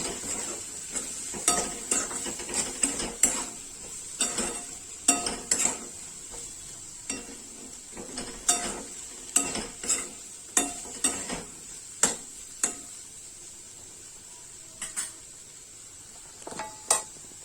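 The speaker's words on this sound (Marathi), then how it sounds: "परत एकदा छान परतून घ्यायचं आहे।" Masale bhat rice stir-fried in a pan with shahi biryani masala, a spoon scraping and clinking against the pan in quick irregular strokes over a faint hiss. The sound is close and moderately loud, with no speech.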